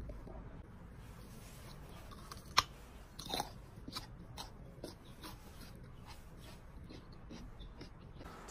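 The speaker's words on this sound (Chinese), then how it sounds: "这根我就直接这么生吃了。" Raw red carrot eaten whole, giving a few crisp bites followed by scattered close crunchy chewing sounds in a quiet setting.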